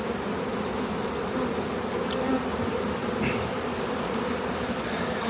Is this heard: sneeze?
no